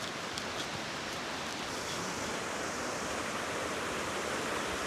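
Creek water rushes steadily nearby, a dense, constant roar of flowing water with no voices.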